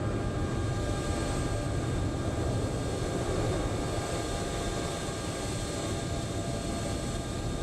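A McDonnell Douglas MD-11 auxiliary power unit runs in Microsoft Flight Simulator 2024, heard from the rear of the aircraft as a steady, unbroken broadband roar with a faint high whine on top, alone and without talk.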